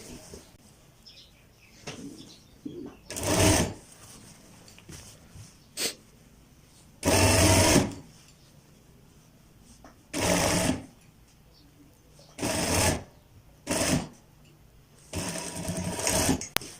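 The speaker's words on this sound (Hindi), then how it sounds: "अब दोस्तों हमने इसके ऊपर जो हमारी स्टिचिंग है वो हमने अप्लाई करनी है।" Short bursts of an electric sewing machine stitching a kurta whir loudly several times, separated by pauses filled with quieter handling sounds and a person talking.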